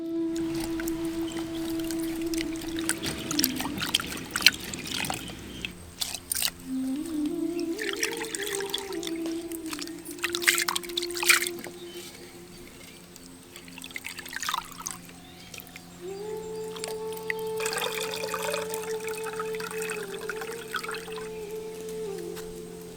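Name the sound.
water poured over horse gram lentils to rinse them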